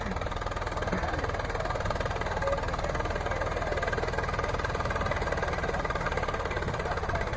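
A Swaraj 960 tractor engine labours under heavy load with a continuous low, throbbing rumble that holds steady throughout and has no voices over it.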